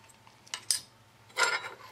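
A spoon scrapes and clinks against a dish of Malaysian fruit pudding: a few brief, faint scrapes with a louder clink near the end and quiet pauses between them. No one speaks.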